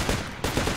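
Sustained automatic gunfire in the tactical military shooter Project Reality, a dense, loud burst of rapid shots that breaks off briefly and then resumes, with a squad suppressing enemies in a building's top-floor windows.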